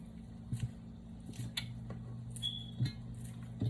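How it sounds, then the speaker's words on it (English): Kitchen scissors that can cut meat through bone, snipping in a home kitchen while making spaghetti sauce and meatballs, several short crisp snips at irregular intervals over a steady low hum, close and fairly quiet. "get you a good pair of kitchen scissors"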